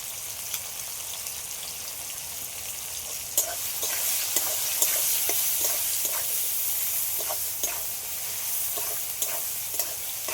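Spices and ingredients for khichuri frying together in a pan, a constant bright sizzle with regular light taps and stirring scrapes spaced through the steady hiss.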